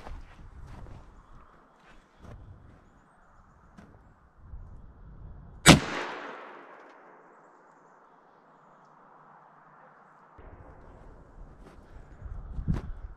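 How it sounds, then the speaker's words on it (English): An unsuppressed airgun fires once outdoors in snowy Alaska: a single loud, sharp crack with a ringing decay, set among faint footsteps and rustling before and after. "We'll take our first shot, and this is without any suppressor,"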